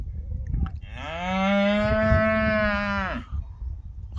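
A free-roaming cow in a Turkish highland yayla gives one long, loud, close moo lasting about two seconds, with faint outdoor rustling before and after.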